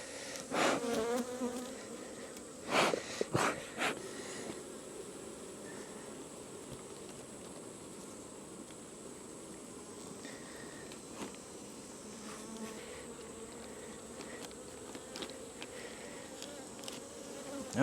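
Honey bees buzzing around open hives while two colonies are merged, a soft continuous drone close by, with occasional sharp knocks and handling sounds, mostly faint.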